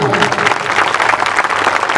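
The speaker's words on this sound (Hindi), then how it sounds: "इसलिए हर माँ के लिए, हर बहन के लिए एक बार ताली बजाओ" Audience applause for mothers and sisters at a public speech, a dense, steady clapping roar that fills the whole stretch at close range, with a voice faintly mixed in.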